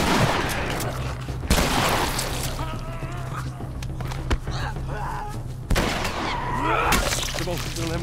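Shotgun blasts and combat clatter from The Last of Us Remastered, with a few loud sudden booms standing out over dense, continuous game noise and scattered crashes.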